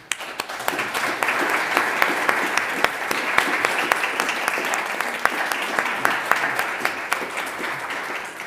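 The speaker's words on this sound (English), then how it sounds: "please join me in giving a big hand of applause to all of our four speakers." Audience applause for four speakers at a cybersecurity conference hosted by a diplomatic academy, a steady dense wash of many hands clapping that holds at an even level for the whole stretch, with no voices over it.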